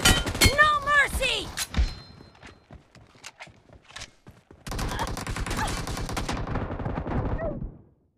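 Gunfire in a team deathmatch shooter video game: rapid bursts of shots, with sparse single cracks and then a long sustained stretch of automatic fire, fairly close, alongside game effects.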